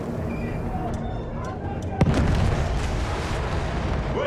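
A loud artillery cannon boom bursts out amid constant battle noise in the video game Battlefield 1, with a rumbling wash of gunfire and explosions continuing behind it.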